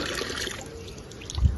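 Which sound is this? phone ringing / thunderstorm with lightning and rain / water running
water running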